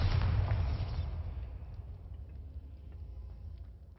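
Booming blast from the Bombarda spell in the Hogwarts Legacy game, a loud low-heavy burst up front that decays into a long rumbling tail over four seconds, with no talking.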